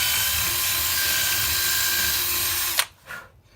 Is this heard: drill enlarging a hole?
yes